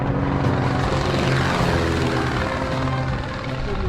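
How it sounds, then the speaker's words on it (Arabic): A loud, droning aircraft engine roars overhead, steady and close, with a whirring propeller-like hum throughout. "طيارة هذه طيارة قدامنا."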